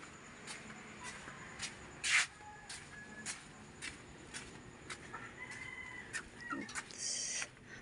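Chickens cluck and a rooster crows in faint, distant bursts at dawn in a quiet dark yard, scattered calls over a low steady background.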